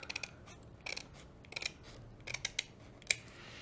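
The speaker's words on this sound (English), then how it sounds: "take our scissors, and we're gonna trim right along" Scissors snipping along the edge of a paper stencil for a terracotta pot, a series of quick, crisp close cuts in uneven clusters with no talking.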